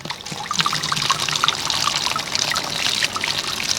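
Water gushes through a LEGO river build in a steady, close, bubbling rush with continuous trickling and splashing, no voices over it.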